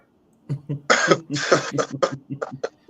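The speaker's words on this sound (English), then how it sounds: "I just do a cough to make sure mic's working" A short burst of coughing, a few rough, breathy hacks in quick succession, close and fairly loud.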